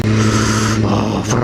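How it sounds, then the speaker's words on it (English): A Ferrari sports car accelerates nearby, its engine a loud, steady droning roar that shifts tone partway through the short burst. "Oh, Ferrari."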